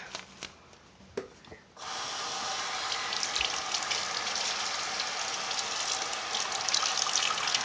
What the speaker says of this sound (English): let's fill this thing with water.